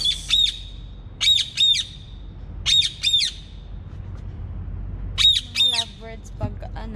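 Two lovebirds make repeated harsh squawks, mostly in pairs, with short pauses between bursts, close and loud over a quiet hum, and a faint voice near the end.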